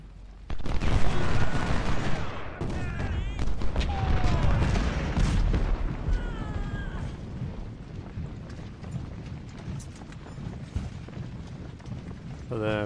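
Civil War artillery and rifle fire in Ultimate General: Civil War at the Battle of First Bull Run, loud bursts of gunfire and booming crashes densest early on, easing into a steadier distant rumble of battle, with no talk over it.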